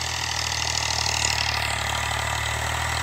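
A 2020 Eicher 485 HD tractor engine idles steadily and close by, a constant low diesel rumble with a regular throb and no break for the full three seconds.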